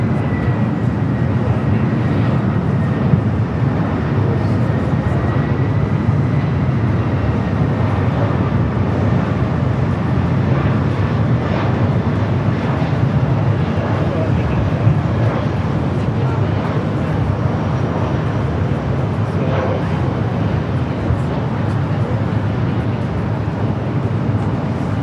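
Boeing 777-300ER jet airliner on a flight to London Heathrow, heard from a plane-spotting spot near LAX as a steady, loud broadband engine roar that holds for the whole stretch without breaks.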